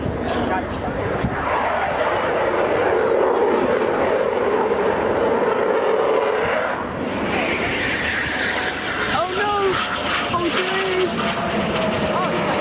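Eurofighter jet flying a display at the Shoreham Airshow 2013, a loud sustained roar that shifts pitch as the aircraft passes overhead, with brief startled exclamations from nearby spectators.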